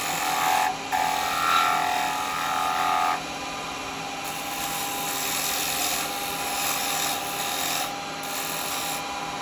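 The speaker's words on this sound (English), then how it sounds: "it's probably going to be better if I was to use the square chisel. Get a dead square on that." Wood lathe turning a lidded box with a square carbide chisel: a steady, loud, whirring and scraping hiss that runs throughout, with a brief shift in tone partway through and no speech.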